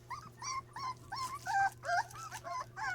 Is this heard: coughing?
no